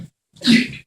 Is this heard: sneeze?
yes